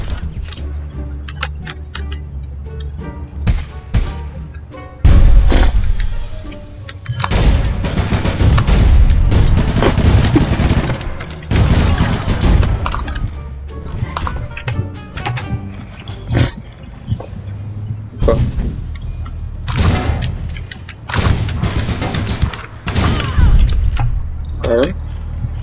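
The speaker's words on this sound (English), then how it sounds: "You like chucking nades, man." Gunfire and booming grenade blasts ring out in APB Reloaded, heavy explosive bursts and scattered shots rising after a quieter opening while players shout and talk excitedly over the action.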